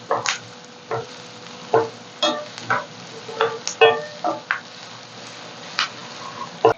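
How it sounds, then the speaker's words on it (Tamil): Onions sautéing in a pan with a steady sizzle while a spoon scrapes and stirs in irregular strokes, close and fairly loud, with no voices. "இப்போ வெங்காயம் வதங்கிருச்சு"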